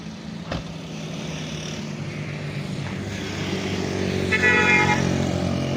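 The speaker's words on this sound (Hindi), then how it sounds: "गाड़ी जा रही है जी" A Toyota Hiace Grand Cabin van pulls away with a steady engine drone that holds through the whole stretch and grows slightly louder toward the end, with no talking.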